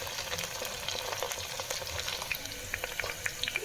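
Onions frying in a pan for a meat dish, cooked only lightly, give a steady close sizzle with brief crackles and pops through most of the stretch and no talking.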